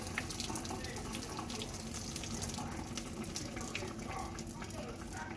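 Running water splashes and drains steadily into a sink, a constant watery rush with occasional drips on top.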